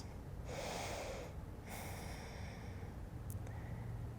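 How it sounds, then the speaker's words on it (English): Slow, audible breaths during a chair yoga flow into eagle pose: a long inhale then a second breath, each a soft airy rush, close and steady, followed by a faint short sniff near the end. "Breathing in and breathing out into eagle pose."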